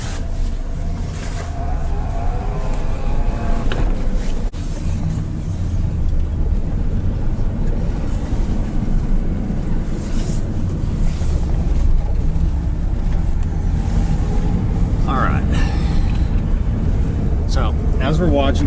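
A first-generation Dodge Ram pickup drives along with a steady low engine rumble and heavy road and wind noise inside the cab, continuous and close throughout.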